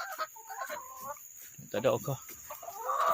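Chickens kept at a garden plot by a paddy field cluck in short, irregular bursts, moderately close, while someone talks briefly among them.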